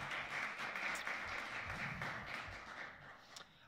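Jazz club audience applauds the organist of an organ trio, a soft, fairly distant patter of clapping from a modest crowd, steady and then thinning, with no talk over it.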